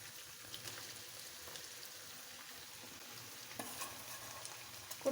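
Shrimp and bitter melon stir-frying in a pan, a steady soft sizzle with occasional scraping stir noises throughout, fairly quiet and without talk.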